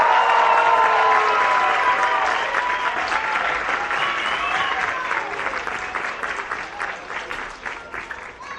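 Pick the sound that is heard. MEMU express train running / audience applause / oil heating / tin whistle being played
audience applause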